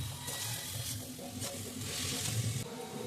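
Cabbage being stirred in a pan with turmeric and salt, a steady close sizzle with soft scraping and shuffling strokes running throughout, no voices.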